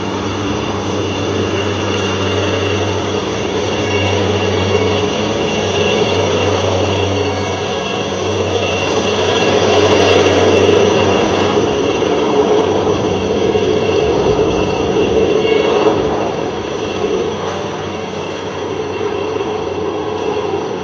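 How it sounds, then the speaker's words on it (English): A formation of aircraft passes over an air show, a loud sustained engine drone with a steady propeller hum that swells toward the middle and then eases slightly, filling the whole span with no talk. "This formation is being led by Squadron Leader Kumar"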